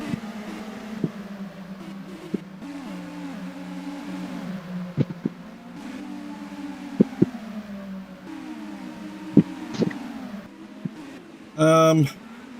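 A close pack of race cars in a video game race drones steadily with layered engine tones and occasional sharp clicks, while a commentator talks over it and a brief burst of rising tones near the end.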